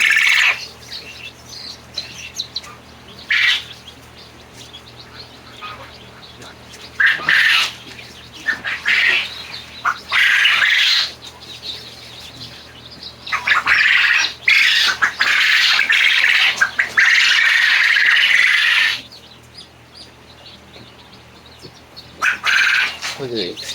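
Baby chicks of a barnyard mix squawking and chirping loudly up close, in repeated shrill bursts that swell and fade, with a long continuous stretch of squawking midway.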